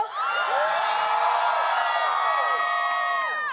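Huge festival crowd at the Global Citizen Festival in Central Park cheering and whooping, many overlapping high shouts and yells swelling into one loud sustained roar that carries through the whole stretch before cutting off.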